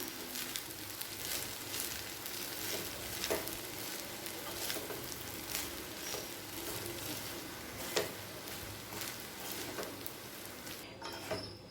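Egg rice with ghee is stirred in a pan, giving a steady sizzle with soft scraping and clinking strokes at irregular intervals, close and moderately loud, with no talking.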